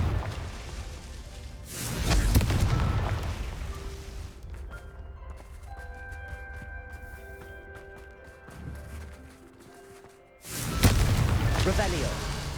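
A Confringo explosion spell in Hogwarts Legacy on PS5 goes off with a loud booming burst near the start. Quieter magical chimes and tones follow, then a second heavy blast near the end.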